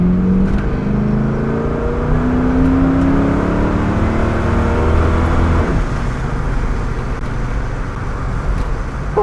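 A 1969 Pontiac Trans Am with the Ram Air engine pulls hard under full throttle, its engine roar rising in pitch through the gear and then dropping at a shift before building again, loud and steady from inside the car.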